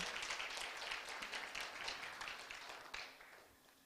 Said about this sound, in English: let's give a big round of applause to all the people who made this possible